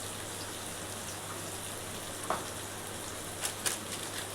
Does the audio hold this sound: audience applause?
no